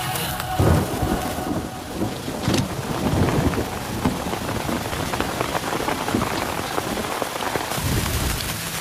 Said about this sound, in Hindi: यहाँ पर बारिश हो रही है